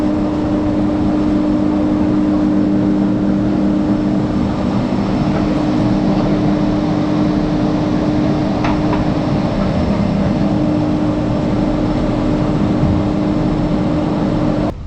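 A Patriata chairlift in Murree, Pakistan starts its ride, giving a loud, continuous mechanical drone and steady hum with a faint clank partway through and a sharp cutoff at the end; no talking.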